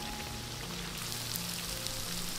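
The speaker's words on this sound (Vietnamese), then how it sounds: "Mình sẽ chiên cho đến khi nào mà một mặt nó vàng thì lúc đó mình lật lại." Tofu sizzles and crackles steadily in oil close up, a dense continuous frying hiss with no voices.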